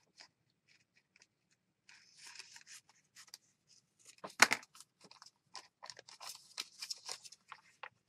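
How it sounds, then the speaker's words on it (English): Scissors snip quickly through paper while trimming a gel-printed piece for a matchbook expanding folio, a close, dry series of short cuts and rustles in a quiet room. "I'm just going to trim it with my scissors real fast"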